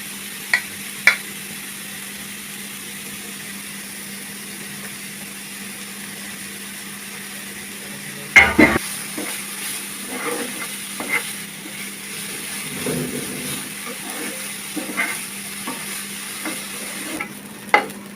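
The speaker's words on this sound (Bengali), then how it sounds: "গাজরগুলো ঘির মধ্যে ভেজে নিতে হবে।" Carrots fry in ghee for halwa, a faint background sizzle at first, then a sharp knock and intermittent scraping and clattering stirring strokes against the pan, close with no talking.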